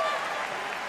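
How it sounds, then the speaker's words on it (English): Audience at a dog agility competition cheering and applauding a run toward the finish, a steady wash of clapping and crowd noise throughout the brief moment. "Let's cheer them home, ladies and gentlemen."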